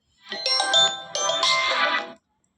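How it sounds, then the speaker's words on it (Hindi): A phone ringtone plays a short melodic electronic tune in two bursts, clear and close, with no talking. "फोन आ गया था, कोई बात नहीं।"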